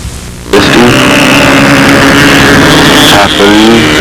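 Typhoon control line model airplane powered by a 91 four-stroke engine, flown at a windy fly-in; a loud sustained buzzing engine note starts abruptly and holds steady with slight pitch shifts as the plane circles.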